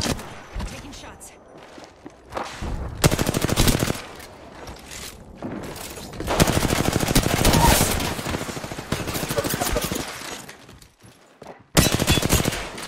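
Automatic gunfire from a shooter video game rattles in several loud bursts, separated by short lulls, with a player talking over the action.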